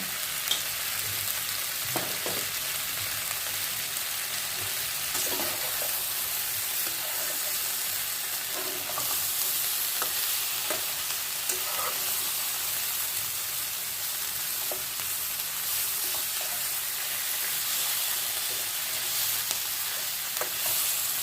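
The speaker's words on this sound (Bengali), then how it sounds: "একটু ভাজা ভাজা হোক।" Food fries in a pan with a continuous bright sizzle and crackle, broken by occasional soft clicks and stirring sounds, steady and unbroken for the whole stretch.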